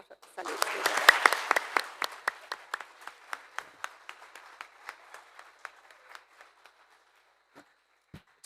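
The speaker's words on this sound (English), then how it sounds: "we need to give them a round of applause for actually replying" A burst of applause from a small crowd at an awards ceremony swells quickly, then thins into scattered individual claps that fade out, with a final stray clap or two.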